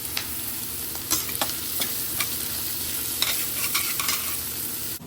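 Eggplant sizzling in hot oil in a pot while being stirred, a steady close fry with frequent scraping clicks from the spoon and no talk.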